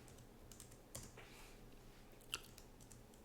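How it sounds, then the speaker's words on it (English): A few soft, scattered keystrokes on a computer keyboard as a command is entered on a Linux Mint system, faint and close with light background hiss and no talk. "and then just type it in right here"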